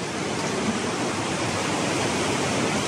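Water rushes steadily from a spring emerging inside a cave in Chiapas, Mexico, a full broadband hiss like a close waterfall or fast stream, continuous and loud throughout with no voices.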